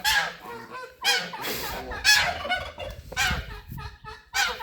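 Geese honk loudly and turkeys gobble together nearby in repeated bursts, several overlapping calls rising and falling in rough rhythm about once a second.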